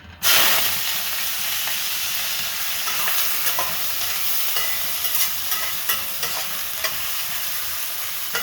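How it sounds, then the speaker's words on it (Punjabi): Chopped onions drop into hot oil for a matar mushroom curry, bursting into a loud, close sizzle that settles into a steady frying hiss with faint stirring ticks, and no voices over it. "ਤੇਲ ਆਪਣਾ ਗਰਮ ਹੋ ਚੁੱਕਾ ਹੈ ਹੁਣ ਆਪਾਂ ਵਿੱਚ ਜਿਹੜੇ ਪਿਆਜ਼ ਕੱਟੇ ਹੋਏ ਨੇ ਇਹ ਐਡ ਕਰਾਂਗੇ"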